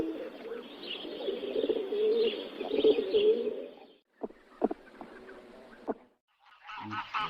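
Pigeons cooing in a steady, low, murmuring run for about four seconds, followed by a few short, sharper bird calls and a brief honking burst near the end.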